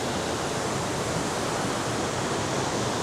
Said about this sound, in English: Check out the river, the gorge.